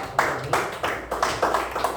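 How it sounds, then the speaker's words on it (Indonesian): Children in a classroom clap for a group, giving about six evenly spaced, crisp claps in a steady rhythm, close and fairly loud, with no talking. "tepuk tangan buat kelompoknya Arya"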